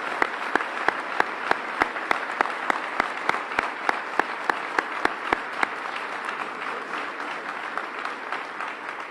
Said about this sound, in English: I'd ask you to join me now in giving a round of applause for Mayor Harp and the impact she's had on New Haven.